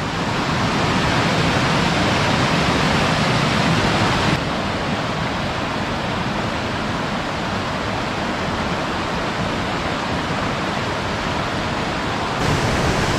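Waterfall Los Bronces near Puerto Williams, Chile, roars as a steady, loud, broadband rush of falling water throughout, with no voices.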